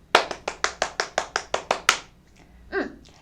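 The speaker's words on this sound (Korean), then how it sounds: "같이 박수치고 갈까요?" A class of schoolchildren gives a short round of unison claps, about ten sharp, evenly spaced claps close up, followed by a brief faint voice.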